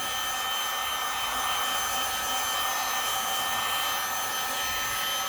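A heat gun blows hot air over paint on resin tile coasters, producing a steady, close, fan-like roar that continues unchanged throughout with no one speaking.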